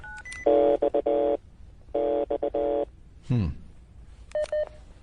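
Telephone keypad DTMF tones play on a voicemail message: bursts of rapid beeps in two clusters, then a brief sweeping electronic squeal and a few more scattered beeps, fairly loud with no talking.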